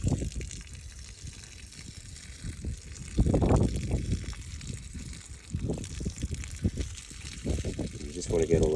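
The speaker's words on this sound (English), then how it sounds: "I just want to pour it through until" Lukewarm water poured through a dirty K&N air filter from a Nissan X-Trail T31, a steady close gush and trickle running throughout, with someone talking over it.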